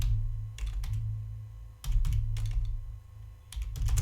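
A subflow name being typed on a computer keyboard in Power Automate Desktop: several short clusters of key taps over a steady low hum, with no talking.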